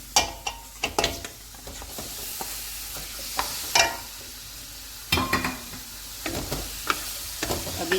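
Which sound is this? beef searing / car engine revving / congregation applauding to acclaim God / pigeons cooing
beef searing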